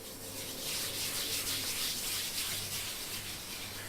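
A continuous rubbing sound, made as a rhythmless improvisation effect in a music game, scrapes along steadily and fairly close for a few seconds with a broad, hissy texture and no talk.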